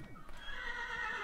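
A horse neighs in the Minecraft Technic modpack, a single close, clear whinny lasting about a second with a bright, wavering tone and no voices over it.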